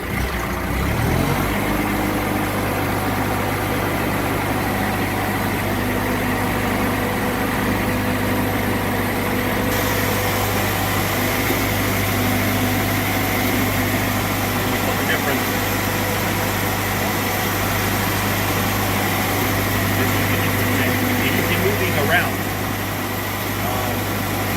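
Putzmeister Katt-Kreter engine starting then idling, with a steady low drone and hum continuing at an even level throughout while someone talks over it.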